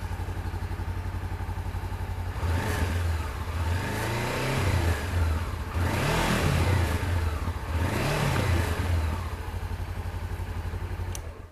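A 2016 Honda CB500F twin-cylinder motorcycle engine runs steadily at close range, idling with a few rising blips of throttle that swell and fall back, loud and continuous with no talk.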